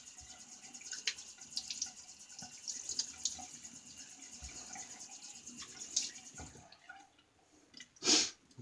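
Water runs from a tap to wet shaving soap. A soft trickle and drips sound close by in a quiet room, with a louder splash near the end.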